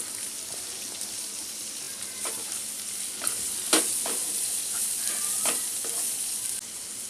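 Cabbage with salt and black pepper stir-frying in a pan for egg hakka noodles, a steady close sizzle with scraping stir strokes and a few sharper clatters, no talk.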